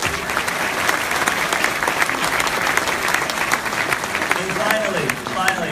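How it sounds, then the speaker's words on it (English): Loud, sustained applause from a crowd at a town hall gathering honoring students, dense clapping throughout with some voices mixed in underneath near the end. "so give them a round of applause"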